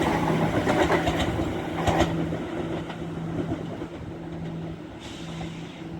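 A ScotRail Class 170 diesel train passes through North Queensferry, with a continuous rumbling roll, rhythmic wheel clatter and a steady engine hum, moderately close and without voices.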